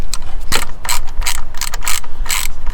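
Quick, loud ratchet clicks at close range as a serpentine belt tensioner is released on a drift car, in short uneven bursts.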